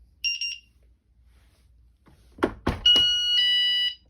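A camper's inexpensive alarm system gives a short electronic beep pattern, then a couple of thunks, followed by a loud sustained door alarm tone that holds steady for about a second.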